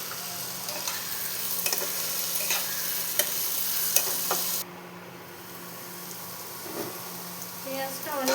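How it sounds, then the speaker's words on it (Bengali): Onion and raw garlic fried together in a pan, a soft steady sizzle with repeated light scrapes and taps of a spoon, the hiss dropping noticeably partway through before stirring resumes. "পেঁয়াজটাকে ভালো মতো লাল লাল করে ভেজে নিতে হবে"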